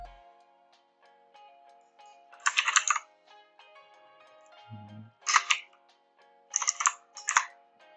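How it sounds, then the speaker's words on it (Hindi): Typing a URL on a computer keyboard: short bursts of crisp key clicks at irregular intervals, separated by quiet pauses, with a single low thump midway, close and without talk. "सो मैं URL टाइप कर लेता हूँ"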